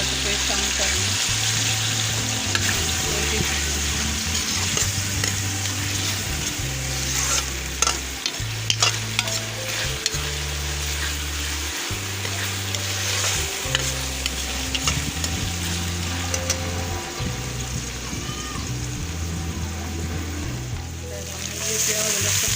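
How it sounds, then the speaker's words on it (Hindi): Garlic ginger paste sizzles with fried onions in a pan for a pumpkin and chicken dish. The frying is continuous and loud, with repeated stirring and scraping throughout. "प्याज फ्राई हो गया। अब मैं लहसुन अदरक का पेस्ट शामिल कर रही हूँ।"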